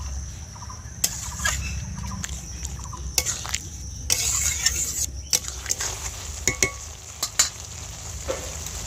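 Vegetable curry with fried lentil dumplings bubbles and sizzles in a pan while a spoon stirs it, with repeated sharp scraping clacks against the pan over a steady low simmer.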